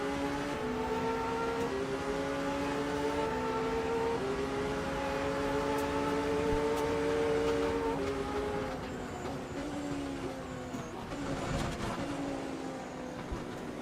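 Alpine race car in Le Mans Ultimate, its engine a steady high-pitched whine with rising and falling harmonic sweeps through gear changes and a dip under braking, loud and continuous with no talking.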